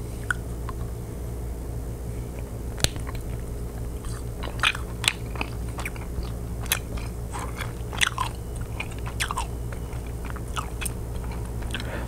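Close, crisp chewing of Swedish Sockerbit marshmallow candy, with irregular soft crunches, squishes and bites repeating steadily over a low background hum, no talking.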